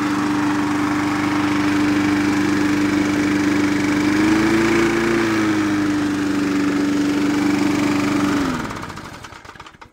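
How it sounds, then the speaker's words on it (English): A lawn mower engine runs steadily at close range with an even, smooth drone and a slight rise in pitch midway, then winds down and fades out near the end. "motor is running smoothly."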